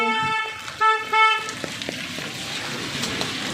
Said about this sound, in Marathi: हा गाडीवाला एवढा रस्ता असूनसुद्धा पाठीमागून जोरात हॉर्न वाजवतो.